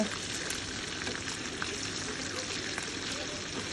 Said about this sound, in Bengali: এখানে চিকেন ভাজা হচ্ছে